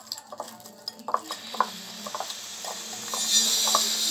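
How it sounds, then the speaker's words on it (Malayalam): A spatula clicks and scrapes against a pan while stirring a crab fry mixture with pepper powder and salt, a quick irregular run of light taps over a growing sizzle. "പാകത്തിന് ഉപ്പും ഉപ്പും കൂടെ ചേർത്ത് നമുക്ക് നല്ലോണം ഒന്ന് മിക്സ് ചെയ്യാം."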